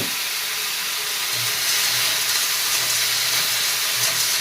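Potatoes fry in a pan with a steady, close hissing sizzle that stays even throughout, with no talking.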